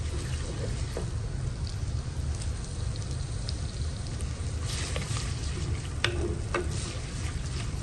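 Onions fry in hot oil inside an unglazed clay pot, producing a steady, close sizzle with a soft crackling hiss and a few sharper spatters and stirring scrapes near the end, with no talk.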